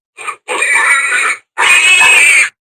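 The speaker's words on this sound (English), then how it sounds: "Yes, I got a pig sound." A recorded pig grunts and squeals loudly in three bursts, a short one then two longer harsh ones, played back alone with no talk.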